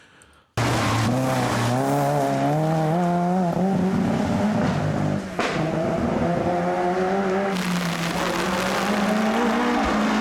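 A French rally hot hatch engine howls loud and close at high revs, its pitch climbing, dipping at a gear change midway, then climbing again through the run, with tire noise mixed in.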